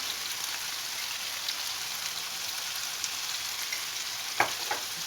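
A mushroom and vegetable filling with peppers sizzles steadily in a frying pan for a börek, with a few soft scraping stirs near the end and no talk.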